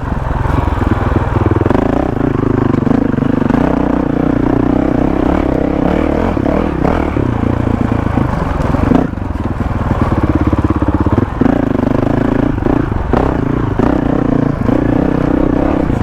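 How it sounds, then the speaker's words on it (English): An enduro motorcycle engine idles steadily with its tick over raised, a loud, close, continuous rough drone that holds for the whole stretch with slight uneven pulsing. "So I've increased the tick over on the bike, which has helped."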